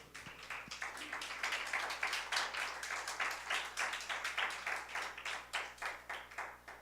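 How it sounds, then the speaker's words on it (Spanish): Church congregation applauding together, a steady run of rhythmic clapping that carries on for several seconds at moderate volume, with no one speaking over it. "denle un fuerte aplauso a Cristo"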